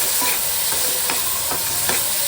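A spoon scrapes and stirs a thick spiced mixture with yogurt in a hot frying pan with steady rhythmic strokes over a constant sizzle.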